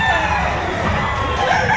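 Rooster crowing loudly and close at a weekend chicken market behind a mall in Lipa, Batangas, with other fowl clucking and a crowd murmuring underneath.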